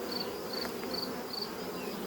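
Honeybees buzzing around a hive while an artificial swarm is made, a faint steady hum with a few brief nearby fly-bys over a soft outdoor background.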